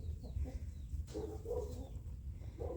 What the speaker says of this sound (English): My rooster definitely insists on being loud.